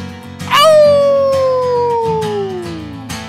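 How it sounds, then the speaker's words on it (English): A corgi gives a single loud, close howl that starts high and slides steadily downward in pitch for a couple of seconds, with a brief yip at the end. "They'll howl for you, Kevin."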